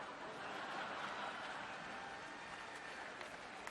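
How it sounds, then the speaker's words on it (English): Hall of Fame speech crowd applauding in a large hall, a steady distant wash of clapping at moderate level that holds evenly throughout with no talk over it. "You didn't have to applaud on that line."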